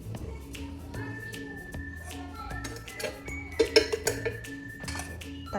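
A lid is set onto a pan of steaming chela fish on a low gas flame, giving a short cluster of metallic clinks and taps over a faint kitchen hum.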